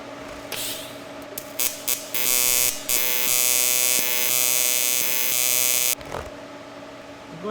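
An Everlast PowerTIG 255EXT TIG welder welding in standard AC mode gives a loud, steady electric buzz with a few short starts before holding one long continuous arc that cuts off abruptly.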